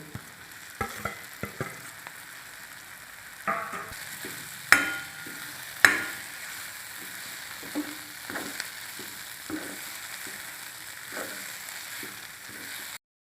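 Ivy gourd (tondli) drops into a hot pan and sizzles while a spoon stirs and scrapes it, with a few sharp clanks against the pan and no talking.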